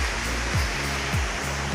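Bhairaghumar waterfall roars with a dense, steady broadband rush of falling water, loud and close, with a few faint periodic whooshing sweeps beneath it.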